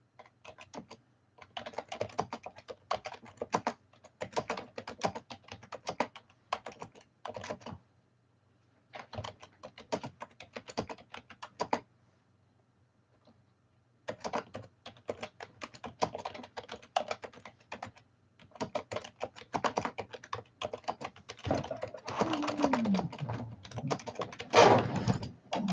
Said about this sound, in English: I'm just typing out y'all's good night message real quick